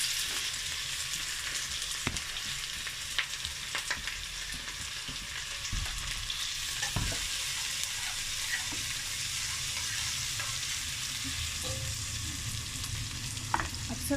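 Onions fry in oil for Bong Nihari with a dense, continuous sizzle that holds steady throughout, broken now and then by occasional stirring scrapes and soft knocks against the pot.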